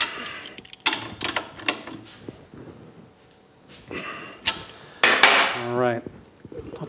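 A half-inch wrench works an axle nut in a workshop, giving sharp metallic clanks and ratcheting clicks in scattered bursts, close and fairly loud against a quiet background.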